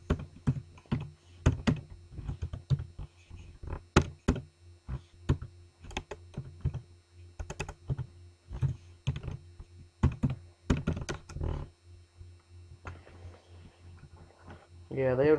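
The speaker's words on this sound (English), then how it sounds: "Let me just see if I can type it in." Close, fairly loud typing on a computer keyboard comes in irregular bursts of clacks and thunks with short pauses, while a low hum runs underneath.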